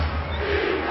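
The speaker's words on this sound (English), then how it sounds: "Crowd chanting defense" A basketball arena crowd at an NBA playoff game between Atlanta and Boston, a dense, loud roar of massed voices chanting for defense that fills the whole moment.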